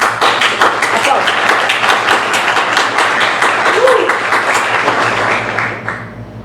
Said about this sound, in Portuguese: Pode aplaudir. Aplausos.